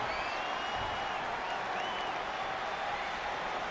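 A home crowd roars and applauds through a WWE 2K20 wrestling match, a steady, dense wash of cheering with faint whistles, continuous and moderately loud throughout.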